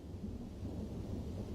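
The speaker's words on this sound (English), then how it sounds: "Outside, a storm is brewing." Thunder rumbles low and heavy from a brewing storm, a brief continuous roll with a faint hiss of rain over it.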